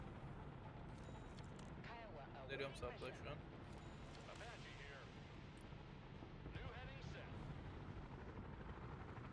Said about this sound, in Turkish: Helikopter geliyor. Mi 8.